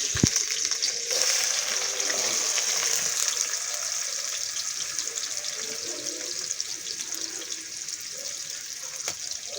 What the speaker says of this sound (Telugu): నూనె అయితే కాగింది, ఉల్లిపాయలు వేస్తున్నాను నేను